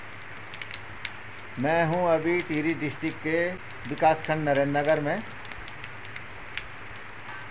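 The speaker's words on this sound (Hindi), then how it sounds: "आज सुबह से यहां झमाझम बारिश हो रही है" Heavy rain pours in Narendra Nagar, Tehri district, Uttarakhand, a steady hiss running the whole time while someone talks over it for several seconds.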